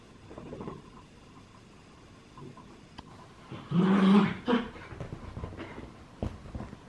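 Small dogs growl and whimper nearby in short, soft bursts, with one louder, rough growl in the middle of the quiet stretch.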